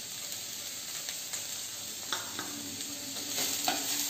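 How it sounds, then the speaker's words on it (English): Cabbage for spring rolls stir-fries in a pan with a steady sizzle. Scattered scraping and tapping from the stirring utensil sounds close by. "So now at this stage, I am going to add 1 cup of cabbage."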